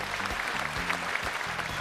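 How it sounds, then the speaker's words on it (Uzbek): Studio audience applause for a contestant on the Omadshou TV game show, dense continuous clapping with a low musical tone underneath. "Mana bu qarsaklar sizlarga"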